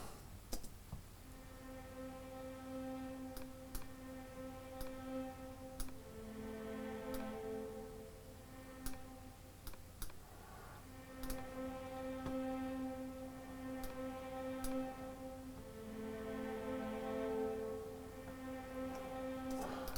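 Soft sustained bowed string chords, a low section of violas holding notes that shift in pitch, quiet and smooth with faint clicks throughout.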